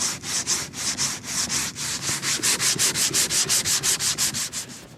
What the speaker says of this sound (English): Let's give it a sand and we'll see the end result.